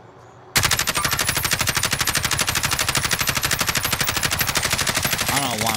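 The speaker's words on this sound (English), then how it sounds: "I don't know why I'm shooting it with a kilo" A Kilo assault rifle fires in Warzone on the Verdansk map: after a quiet lead-in, a long, loud, close sustained burst of rapid automatic gunfire, with each shot sharply distinct in a steady stream.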